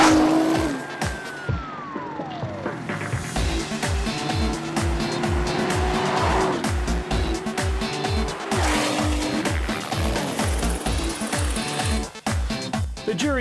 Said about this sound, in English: Lee Hopper lines up against Steve Millen for the ultimate race up and down the airstrip